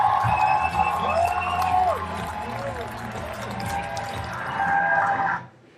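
A crowd of Bernie Sanders supporters cheers and applauds continuously at a rally, a loud, steady roar with shouts rising and falling and swelling again near the end before cutting off.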